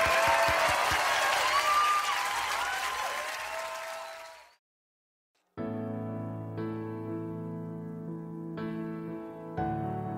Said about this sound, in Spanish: El aplauso para mis vástagos.